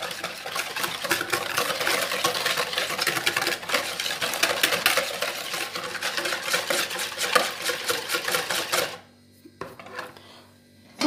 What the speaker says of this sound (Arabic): نخلط مليح بالقوة